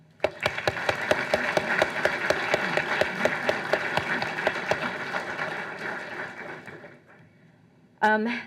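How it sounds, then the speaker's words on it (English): A large outdoor audience at a park change of command ceremony applauds in a steady, dense round of clapping that fades out near the end, followed by a brief burst of voice. "I just want to give a round of applause to all of those folks who helped support put this thing"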